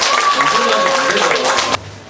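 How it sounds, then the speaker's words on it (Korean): Congregation applause in a church during an anniversary and harvest thanksgiving service, a dense loud clapping wash with a faint sustained tone, cutting off abruptly near the end. "나오실 때 힘찬 박수 드리겠습니다."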